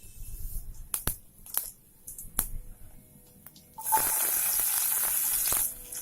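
Cumin seeds hit hot oil and burst into a loud, steady sizzle after a few quiet clinks and taps, hissing continuously for about two seconds before cutting off.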